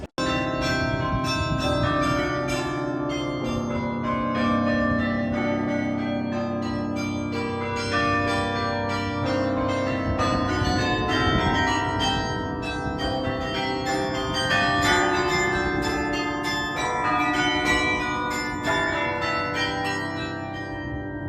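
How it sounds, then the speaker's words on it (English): Bells of the Bruges bell tower ring out in a dense, sustained peal of overlapping tones, loud and close for the whole stretch, with no voices over them. "The bells were super interesting"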